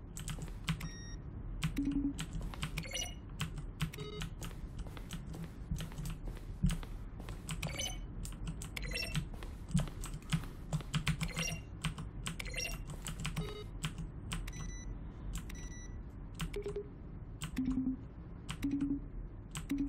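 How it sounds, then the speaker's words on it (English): Button presses in The Stanley Parable sound as rapid keyboard keystrokes blended with short synthesized tones, a dense, steady stream of crisp clicks with occasional brief pitched beeps, close and clear with no speech. "Each sound is a mix of a keyboard stroke and a synthesized tone."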